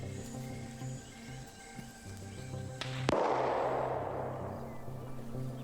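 A single sharp gunshot cracks in a military video game match set in a Vietnam versus China battle, followed by a decaying rumble, standing out against a steady hum with insect-like chirps in the background.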